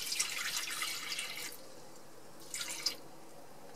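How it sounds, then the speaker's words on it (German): Water splashes and trickles briefly into a Thermomix TM31 mixing bowl, 200 grams for flatbread dough, in two short bursts, with a few faint drips between them in a quiet room. "Und jetzt nehmen wir erstmal 200 Gramm Wasser."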